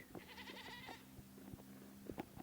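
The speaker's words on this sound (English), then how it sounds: "We have a white goat here." A white goat gives one clear, close bleat near the start, followed by quieter rustling and soft farmyard noises with no talking.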